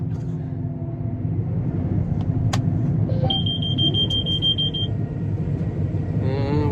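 A vehicle's warning chime beeps about a missing air filter, a short run of rapid high electronic beeps over a steady low engine rumble inside a truck cab during harvest.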